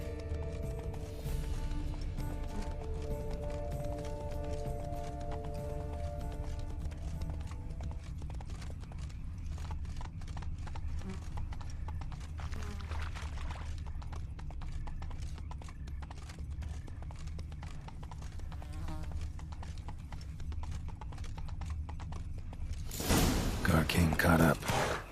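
Horse hooves clip-clopping steadily in The Witcher 3, with an occasional whinny, mixed under game music and character voices, ending in a louder burst of noise.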